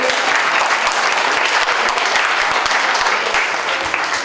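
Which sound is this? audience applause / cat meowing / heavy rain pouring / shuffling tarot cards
audience applause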